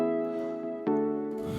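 Soft synth keys from the Morphine KBD soft key patch play higher melodies over sustained chords in an Afro House track, a steady tonal layer with a brief bright accent partway through and no voices.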